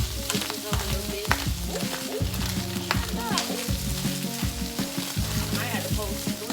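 Corned beef hash fries in a pan, giving a steady close sizzle that runs unbroken under scattered clinks and tonal sounds.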